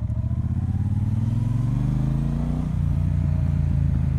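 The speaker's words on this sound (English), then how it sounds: "this bike is so satisfying to ride, even in traffic." A 2018 Triumph Bonneville Speedmaster motorcycle engine drones loud and close while ridden in traffic, its pitch rising steadily before dropping at a gear change and then settling into a steady run.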